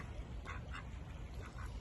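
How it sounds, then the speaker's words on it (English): Ducks quacking at a waterside spot in Gdansk, Poland, a few faint, short quacks over steady outdoor background noise. "And then the local ducks are coming up."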